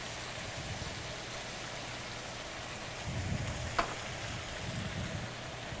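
Mushrooms frying in a pan after deglazing with chicken stock, a steady bubbling sizzle throughout with a faint tap near the middle and some low background murmur.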